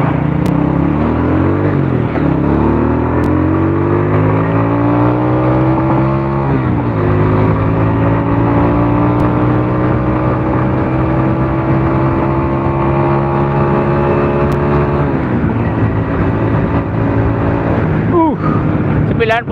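A car engine revs hard and climbs steadily through the gears at high speed, loud and continuous, its rising pitch dropping at each shift before climbing again.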